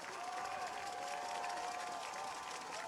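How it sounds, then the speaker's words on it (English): A high school football crowd at a Hart County versus Blessed Trinity game claps and cheers in a continuous, dense roar that holds steady throughout, heard from a distance. "Now the crowd really going"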